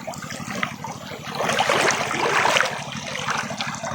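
Steady rushing and gurgling water of the fast-flowing Calabasa River current fills the clip nearby, with no one talking.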